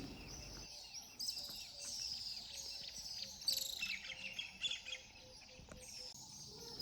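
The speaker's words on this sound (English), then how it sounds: "in the morning air, the birds are completely active and full of energy" Birds chirping in the morning among baobab trees in Tarangire National Park, Tanzania, with repeated faint calls and tweets layered over a soft steady insect buzz, fairly distant and gentle throughout.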